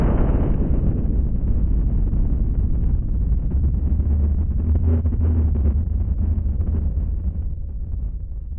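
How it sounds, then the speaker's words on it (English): An explosion effect inside a song, a huge sustained rumbling boom of low noise that stays loud and wide for several seconds before easing off slightly at the end. "I assume that was meant to be an explosion of some kind."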